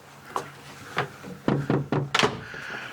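A boat's door thumps shut as someone steps out, with several knocking thuds and clunks in quick succession, close and fairly loud in a quiet cabin.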